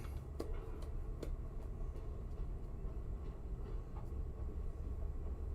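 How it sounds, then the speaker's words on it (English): A train rumbles steadily past nearby, a continuous low roar with occasional faint clanks and squeaks over it, heard alone without speech. "Train."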